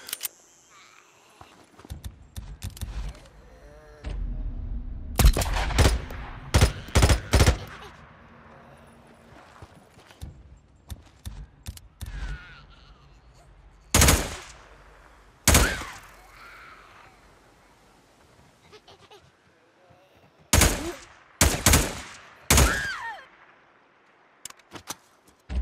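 Gunshots fired in a video game: loud, sharp bangs in irregular clusters separated by quieter stretches, some in quick succession and others single, with a voice speaking between them.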